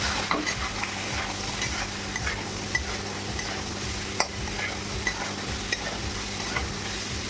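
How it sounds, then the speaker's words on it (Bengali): A spoon stirs Kashmiri chilli powder into spices frying in oil for prawn malai curry, giving a steady soft sizzle with faint scraping taps throughout, with no talk. "হাফ চামচ কাশ্মীরি লঙ্কা গুঁড়ো দিয়ে আমি নাড়াচাড়া করে নেবো।"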